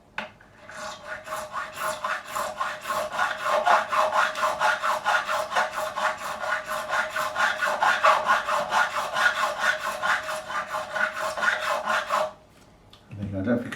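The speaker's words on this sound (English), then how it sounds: "So again, with the crowning file, always cleaning the files." A crowning file works a fret on a Gibson Les Paul with rapid rhythmic rasping strokes, loud and close, that run steadily for about twelve seconds before stopping abruptly, followed by a brief soft handling noise.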